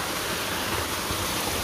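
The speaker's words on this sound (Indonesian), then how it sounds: "Ini ada air terjun di bawahnya di pos 1 itu." Waterfall below the first trail post on the route to Wae Rebo village, a steady broadband rush of falling water that fills the clip, close and constant, with no speech.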